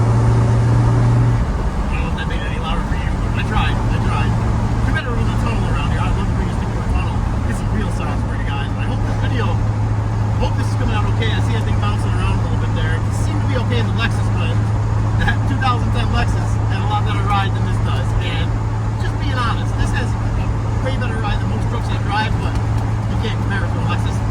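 A 2000 Ford F-250 with the 7.3 Powerstroke diesel and six-speed manual drives along, its engine drone and road roar loud and steady throughout, with a persistent low hum and no pauses.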